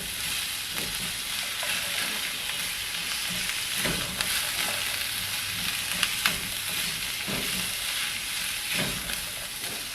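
Herbs are stirred into sausage stuffing in a hot pan, giving a continuous close sizzle and frying hiss with occasional soft scrapes and stirring knocks.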